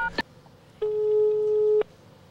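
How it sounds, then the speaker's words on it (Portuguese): A telephone call is placed: a short click, then one long steady tone of about a second, heard close and fairly quiet, with no talking. "Agora, Júlia, já escolheu quem é que você vai ligar?"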